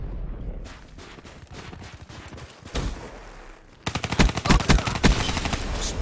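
Rapid automatic gunfire from the video game Black Ops 3, bursting in dense rattling volleys that grow louder and more intense in the second half, with no talking.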